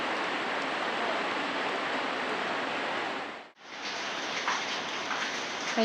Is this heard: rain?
yes